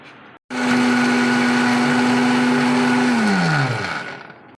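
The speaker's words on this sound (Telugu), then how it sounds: "ఇప్పుడు మనం పల్లీలు నువ్వులు ఫ్రై చేసుకున్నాం కదండి, అది మిక్సీ పట్టుకుందాం" A kitchen mixer grinder grinds fried peanuts and sesame seeds with a loud, steady motor whine and rattling jar. It runs for about four seconds, then winds down as the motor slows and stops.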